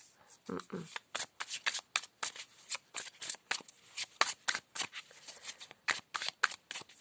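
Tarot cards are shuffled repeatedly in quick riffling bursts, a crisp, close papery rhythm of many separate flicks.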